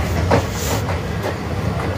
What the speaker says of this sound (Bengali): ট্রেনের গতিবেগ খুব ধিমি চলছে